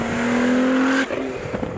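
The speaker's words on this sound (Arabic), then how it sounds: "بس لما تدعس صوت السيارة عالي كثير كثير كثير" A modified Nissan GT-R engine of over 1000 horsepower roars loudly at high revs with a steady whine, then abruptly lets off, leaving a rough, burbling idle.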